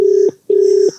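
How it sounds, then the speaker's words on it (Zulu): Two loud, close ringback tones from a phone call, each a steady electronic buzz separated by a short pause, with no voices. "Bathi-ke iya-ring ifoni."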